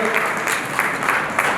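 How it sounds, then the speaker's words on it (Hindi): Audience clapping at an award ceremony honouring heroes of the pandemic, a short burst of dense, loud applause with a voice faintly underneath. "एक बार पुनः जोरदार तालियां।"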